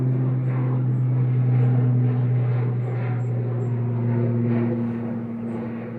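An Aer Lingus Regional aircraft departs Manchester Airport for Belfast, heard as a steady droning engine hum with a strong low tone that swells and then slowly fades as it moves away, with no speech.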